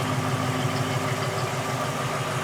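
A 1967 Ford Fairlane's 289 two-barrel engine idles steadily up close, a smooth, even low rumble with a faint vibrating hum and no speech over it.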